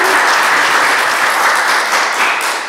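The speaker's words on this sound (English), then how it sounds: "if I can get a round of applause for both of us" Steady applause from a crowd at a 2011 Vallejo school board candidates forum, dense clapping at constant loudness throughout, with no voices over it.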